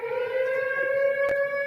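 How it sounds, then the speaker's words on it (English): A steady, wailing siren holds a sustained tone throughout, loud and continuous, with no voices. "a siren goes off"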